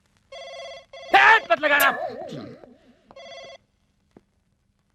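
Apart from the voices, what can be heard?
telephone ringing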